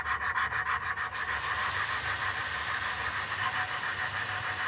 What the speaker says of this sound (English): take some 220 grit sandpaper, start sanding off all the excess, get everything sanded down flush and flat again